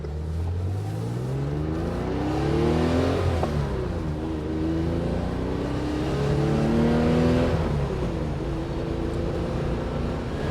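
A 1970 Porsche 911E Targa engine pulls hard on the road, heard from the passenger seat as a loud, steady drone climbing in pitch through repeated gear changes.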